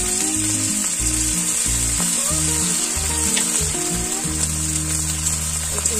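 Green chilli, ginger paste and cumin paste frying in oil for lau chingri, bottle gourd with prawns, a dense bright sizzle with irregular spatters and crackles over a low tonal hum, close and loud.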